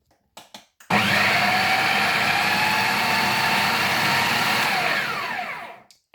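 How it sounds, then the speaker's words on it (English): An old kitchen blender roars steadily for about five seconds at close range, making red pesto, with a grinding motor whine that winds down at the end. "My blender is so old"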